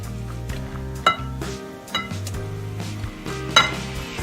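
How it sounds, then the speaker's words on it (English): Spoon stirring a milk and food-colouring mixture in a bowl, repeated clinks and scrapes against the dish in an uneven rhythm over a low steady hum. "Looks like you need to stir just a little bit more."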